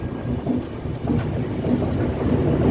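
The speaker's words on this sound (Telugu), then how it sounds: "సో ఫైనల్లీ మన ట్రైన్ అయితే చెన్నై సెంట్రల్ రైల్వే స్టేషన్ నుండి అయితే బయలుదేరిపోయింది" A passenger train pulls out of Chennai Central railway station bound for Vijayawada, giving a steady, loud rolling rumble with faint rhythmic clatter of the carriages and no voices.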